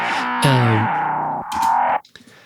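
Synth or instrument tone run through a distorted amp and cabinet simulation with a reverb impulse response, producing loud buzzing sustained notes that shift pitch, then cut off and leave a short diffuse reverb tail.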